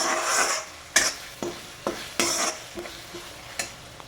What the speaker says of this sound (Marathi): इथे हे मिरची आणि लसूण तेलामध्ये चांगले फ्राय होत आहेत